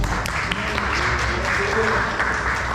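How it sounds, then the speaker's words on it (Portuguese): Church congregation applauding during a missionary conference service, a steady wash of clapping that fills the room at moderate level, with background voices and sustained music tones underneath. "Cadê as palmas?"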